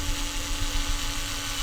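A small power drill whirs steadily while boring a tiny hole through a box, a continuous close-up buzz with no speech.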